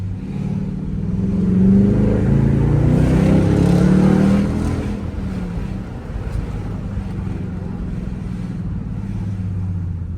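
Dodge Durango R/T fitted with an SRT exhaust accelerating hard in rain, a deep droning exhaust swell that builds and then eases, with steady wind and road noise beneath it.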